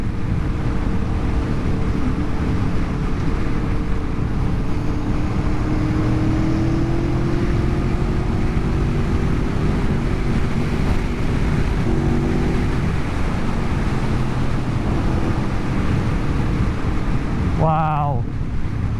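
An Aprilia Tuono V4 1100 Factory 2020 motorcycle engine droning steadily and loud throughout a ride, partly masked by heavy wind rush, with a brief whine near the end.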